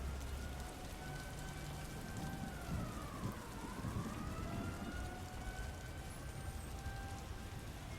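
Relentless rain falling at night in a city street scene, a dense, continuous hiss of rain on surfaces with a distant siren slowly rising and falling beneath it.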